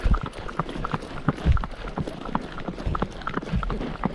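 A horse's hooves clip-clop in a quick, steady rhythm on the trail during an endurance ride on Antelope Island, with light outdoor background noise.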